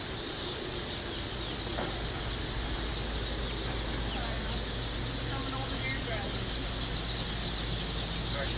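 Crowd of dark Brahma chicks at a hatchery, a dense, continuous chorus of high peeping over a steady low machine hum, close and constant throughout.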